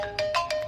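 A phone ringtone sounds in a short burst of repeated bright electronic pulses, clear and fairly loud, with no voices over it.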